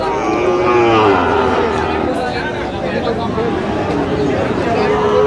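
Cattle moo over a busy crowd at the Raniganj livestock market in Dinajpur, a weekly haat where Sahiwal and Friesian bull calves are sold, with voices and babble steady underneath.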